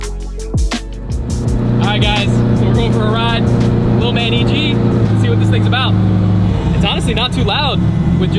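Turbocharged engine of a 1989-based Honda Civic hatch with AWD swap and downpipe-only exhaust runs loud and steady throughout, a continuous low drone with people talking over it.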